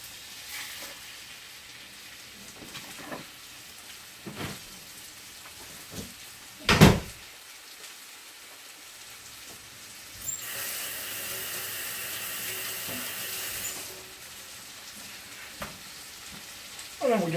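Center cut pork chops about half an inch thick hit a hot pan and sizzle steadily, with a few clanks and knocks of cookware nearby, and a louder hiss swelling midway before settling.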